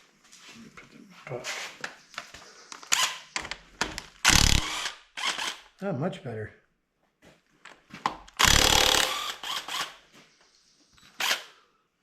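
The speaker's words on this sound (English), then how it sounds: "I think we're gonna go with the big impact." Several loud bursts of a large pneumatic impact wrench rattling as it loosens connecting rod bolts on a Ford 351 Cleveland engine, interspersed with clanks of metal tools and people talking nearby.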